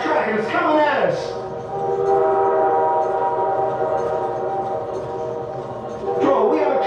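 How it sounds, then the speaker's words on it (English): A train rumbles steadily close by, its horn sounding loudly at the start and again near the end. "we have a train on our track and it's coming at us."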